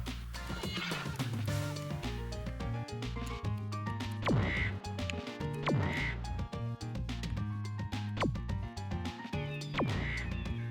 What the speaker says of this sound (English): The machine room is overrun with birds.